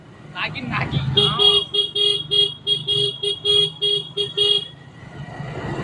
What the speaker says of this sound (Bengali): হর্ন মারতে কি মজা লাগছে তো?